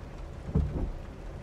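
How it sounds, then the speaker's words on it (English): Rain weather in the racing game Assetto Corsa makes a constant soft hiss, with a brief low rumble like thunder rolling through partway, and no one talking. "This is how you do the rain."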